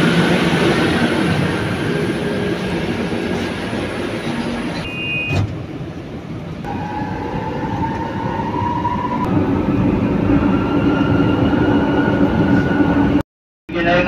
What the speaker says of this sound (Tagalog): sasakay na tayo ng MRT